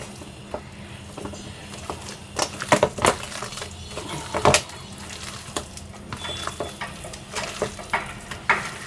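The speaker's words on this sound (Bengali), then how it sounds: "এখন ভালোভাবে নেড়ে চেড়ে নিব।" A spice mixture stirred in a hot pan, sharp clinks and scrapes of a utensil against metal scattered irregularly over a low, steady sizzle, close by with no talking.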